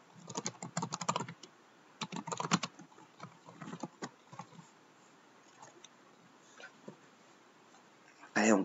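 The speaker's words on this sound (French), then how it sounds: "donc on peut taper ce qu'on veut" Fingers tap quickly on a computer keyboard while text goes into a word processor. Fast clusters of close, crisp clicks alternate with sparser keystrokes and pauses, then end in a louder final burst.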